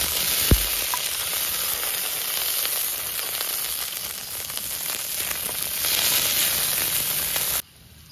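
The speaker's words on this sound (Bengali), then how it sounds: "সবার প্রথমে একটুখানি তেল দিয়ে দিলাম, এবার আমি একটু রসুন দিয়ে দেবো।" Garlic fried in a little oil in a pan; a loud, continuous close sizzle and crackle with a faint clink near the start, then the sizzle cuts off abruptly at the end.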